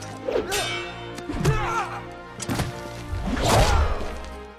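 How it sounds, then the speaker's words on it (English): Several heavy whacks and thuds of a sword striking a leg land in quick succession, close and forceful, with swishing motion between impacts and no speech. "he just hit that guy's leg with the sharp side of the sword"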